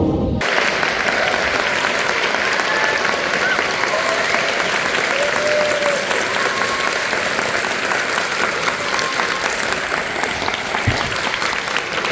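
Steady, dense applause fills a theatre audience as a director is welcomed, loud and unbroken for the full stretch with no talk over it.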